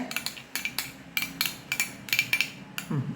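A spoon stirs curd and coconut oil together in a bowl, giving a quick, close series of light clinks and taps in a steady rhythm.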